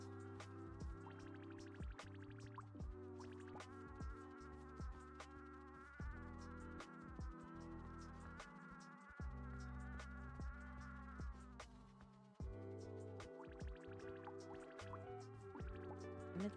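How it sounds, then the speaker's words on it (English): A swarm of bees buzzes in a steady, close drone that shifts pitch in stepped layers and never drops out, with no voices over it. "The noise the bees make."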